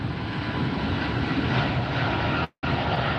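A Hawaiian airliner jet taxis at Los Angeles Airport, its engines giving a broad, steady roar that stays level throughout, interrupted once by a brief dropout, with no voices.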